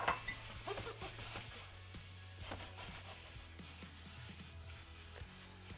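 Shrimp with crushed red pepper cooks in a pan, a faint, low sizzle at close range broken by light clinks and scrapes of a utensil against the pan.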